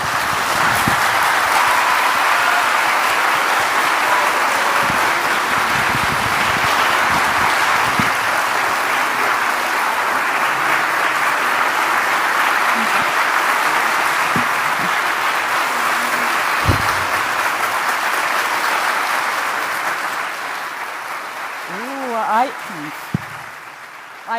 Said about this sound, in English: I think this is the biggest applause that we have had in this conference